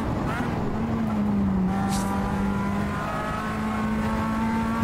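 A Fiat 500 Abarth race car engine in the Assetto Corsa racing game holds a loud, steady drone at a sustained pitch, shifting slightly in tone as it runs, with a faint higher whine above it.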